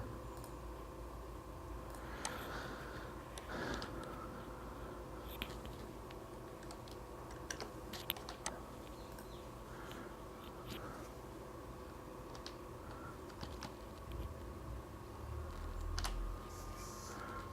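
Faint keyboard clicks come from typing a date of birth while creating a Gmail account, scattered irregular keystrokes over a low steady hum, quiet and with no talking.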